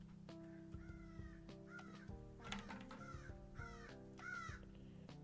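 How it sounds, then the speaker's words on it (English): A crow caws repeatedly outdoors during a fly-tying session, harsh calls arriving in irregular bursts over a steady low hum, clear and fairly close. "Damn crow, what are you crowing about?"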